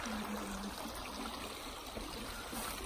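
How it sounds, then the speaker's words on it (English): Water runs steadily outdoors, a continuous soft trickle of a stream heard close by without speech. "Do you not hear this water running?"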